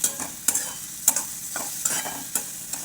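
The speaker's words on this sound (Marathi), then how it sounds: "थोडंसं तेल जास्त टाकायचं चवीला छान लागते मीठ टाकूया आपण छान परतून घ्यायची" Green chilies sautéing in oil with salt for chili thecha, a soft continuous sizzle punctuated by regular scraping stirs of a spoon against the pan, close and fairly quiet.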